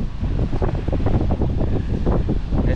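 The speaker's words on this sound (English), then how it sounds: "As you can hear the wind in the background." Strong wind buffets the microphone on Rocky Bay fishing pier on a cold night, a steady loud rushing roar with gusty surges and no voices.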